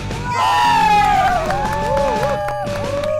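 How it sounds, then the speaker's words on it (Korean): A loud crowd cheers and whoops steadily for about three seconds, with bright shouting voices rising and falling over a dense wall of noise. "박수!"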